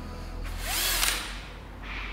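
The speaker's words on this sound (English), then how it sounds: "Gonna drill one hole down here." A power drill bores a single hole through the metal side panel of a van during a DIY window install, one rising whine that swells and fades over about two seconds, close and loud.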